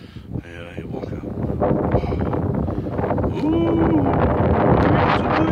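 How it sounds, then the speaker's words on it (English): Wind blows steadily outside a garage, a broad rushing roar buffeting the microphone and growing stronger over the seconds, with faint voices mixed in. "there's a wind going."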